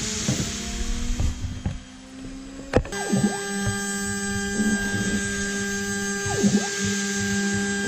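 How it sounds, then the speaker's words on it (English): A desktop CNC router with a DSP controller runs its spindle through a toolpath, giving a steady high-pitched motor whine with a constant hum. Short mechanical sweeps and clicks recur as the axes move. "now the machine has made a few toolpaths and the machine looks like working great"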